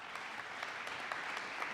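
Faint, brisk applause from a small crowd at a school board meeting, steady clapping throughout with no voices.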